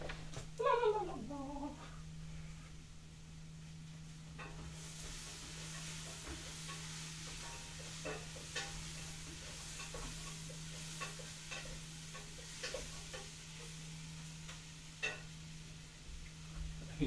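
A pot of food is stirred in the survival video game Project Zomboid, with soft repeated scraping and clicking over a steady low hum that runs throughout. A louder burst comes near the start.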